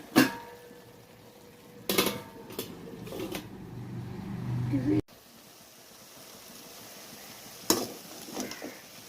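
Spinach rice is stirred in a covered pot, giving a few sharp metallic scrapes and clinks of the spoon and lid amid a faint, low kitchen background.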